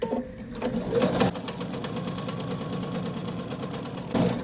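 Sewing machine quilting the center of a fabric picnic placemat, a steady, close, continuous mechanical whirr with a rapid stitching rhythm that briefly pauses and restarts near the end.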